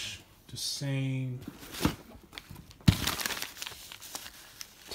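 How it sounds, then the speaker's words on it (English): Tissue paper from an Air Jordan 13 sneaker box crinkles and rustles close by in short irregular bursts, with a brief tonal squeak early on and quiet handling between the crackles. "tissue paper."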